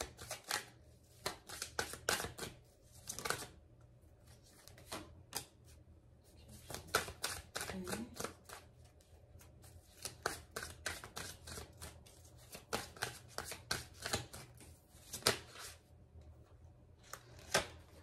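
Tarot cards being shuffled and drawn for a reading, rapid crisp riffling and flicking in bursts with pauses, close up and quiet, with a faint hum underneath.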